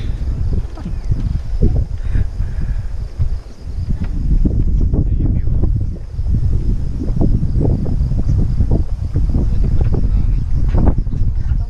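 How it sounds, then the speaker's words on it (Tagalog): Strong wind roars steadily across the microphone, buffeting in low rumbling gusts for the whole stretch, with faint background noise and no clear talk. "Ibang lakas kasi ng hangin"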